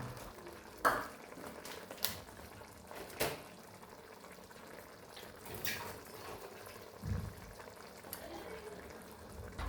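Sev tamatar sabzi bubbles and sizzles quietly in a pan, a soft continuous simmer punctuated by occasional clatters and stirring knocks, with faint talk nearby.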